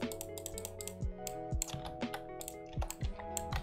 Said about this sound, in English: Just go right here and start clicking